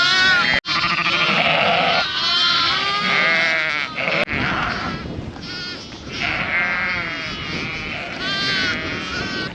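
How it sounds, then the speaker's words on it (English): A flock of sheep being moved during lambing bleats loudly and continuously, many overlapping calls crowding together close by for the whole stretch. "They're pretty good sheep at looking for a lamb"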